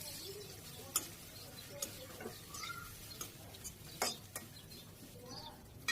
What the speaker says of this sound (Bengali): শাকটা ভাজি হতে থাক